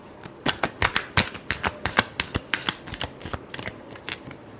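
Tarot cards shuffled by hand for a love reading, a steady run of about twenty crisp, rapid papery snaps close to the listener, with no voice.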